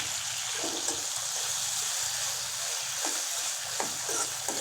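Salt and a spoonful and a half of cumin seeds fry in a pan. A steady, close sizzle hisses throughout, with a few soft stirring scrapes breaking through.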